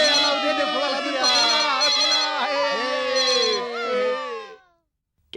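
In a Hindi-dubbed film scene, a mobile phone rings unanswered with a loud, melodic electronic tune that plays for about four and a half seconds and then cuts off into silence.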